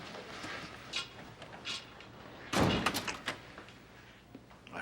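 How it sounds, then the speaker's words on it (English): An office door shuts with a solid thump partway through an audio drama scene, preceded by faint shuffling and soft knocks, moderately close. "Close the door, Tony."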